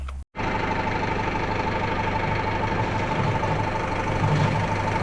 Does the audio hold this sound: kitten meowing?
no